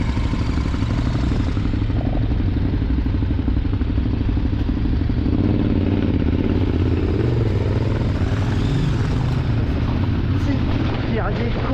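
A motorcycle rumbles and clatters over a rough winter trail, its engine noise dense and continuous throughout, with voices talking over it.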